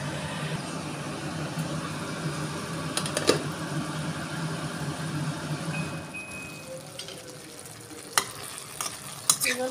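Mutton curry sautéing in a covered pan over low-medium heat, a steady close sizzle with occasional scrapes and clinks of stirring, no voices.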